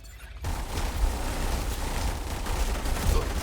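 Sustained gunfire from The Division 2 starts after a short quiet lead-in and runs steadily to the end as dense overlapping shots, with heavier low thumps mixed in and no talk.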